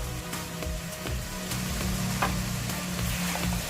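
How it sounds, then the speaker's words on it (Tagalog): Carrots go into a hot sizzling pan for a home-cooked birthday meal, and a steady, close frying hiss with light crackles runs throughout with no voices. "Then, lalagyan na natin yung ating carrot."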